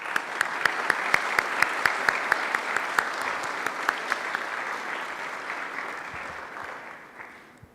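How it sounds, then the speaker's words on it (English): An audience at an AI and robotics conference gives applause for the speakers, with a few sharp, distinct claps standing out above a steady wash of clapping that slowly fades toward the end. "I would like to use this opportunity to give them big applause on behalf of the RAAD community"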